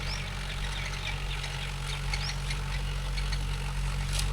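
Mahindra 575 DI tractor engine running in a corn field, a steady low diesel drone with constant hum and no break in level, heard close and alone.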